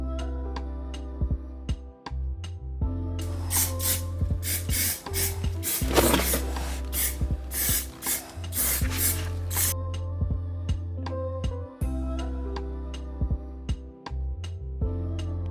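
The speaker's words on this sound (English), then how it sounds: "I'm going to be spraying it on the passenger side front and rear wheels to test it out" Armor All brake dust repellent sprayed onto a car's passenger-side front and rear wheels: a run of short, hissing spray bursts in quick succession, with steady background music throughout.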